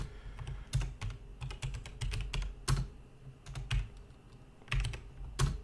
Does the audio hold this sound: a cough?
no